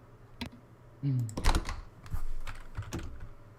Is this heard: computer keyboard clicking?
yes